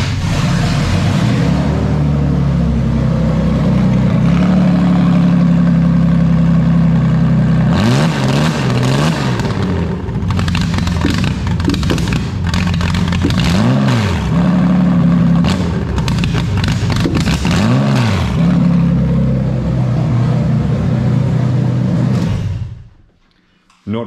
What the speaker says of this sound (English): I'm going to rev it up. Basically what you're going to see is we're going to hit like a 3000 RPM rev limiter